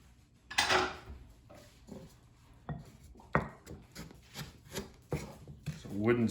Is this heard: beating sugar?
yes